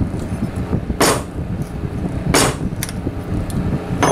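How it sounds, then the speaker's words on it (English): A few sharp knocks on wood, spaced unevenly, close and fairly loud against a quiet room. "I'll even get a little bit of a hammer action going so you can see."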